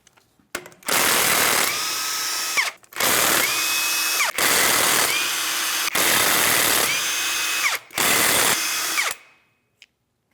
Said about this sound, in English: To get this off of here, we have 5 21mm lug nuts to be removed,